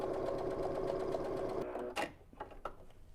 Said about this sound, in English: I'm just kind of letting the machine feed the fabric through